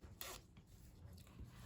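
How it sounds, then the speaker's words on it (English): A nylon polyester coil zipper is opened, a short faint rasp followed by quieter rubbing, close up. "This is the regular nylon or polyester coil zipper."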